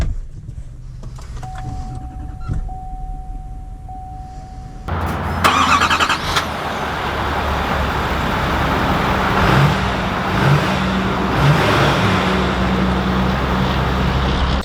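A 2020 Chevy 3500 High Country Duramax pickup truck starts up and begins driving, a steady low engine and road rumble building after a quieter opening with a brief tone and clicks.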